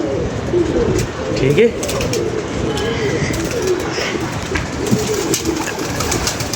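Pigeons coo steadily and fairly close throughout, their low rolling calls layered under casual talk from nearby people.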